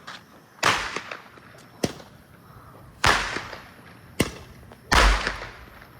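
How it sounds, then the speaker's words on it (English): Consumer fireworks explode in four sharp, loud blasts, each trailing off in a crackling hiss, with a few fainter pops between them outdoors. "Fireworks are so loud."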